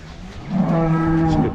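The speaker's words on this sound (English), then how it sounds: "It's a good cow. That's a nice cow." A Holstein dairy cow at a milking farm lets out one long, loud, close moo that rises and holds steady for about a second, with no talk over it.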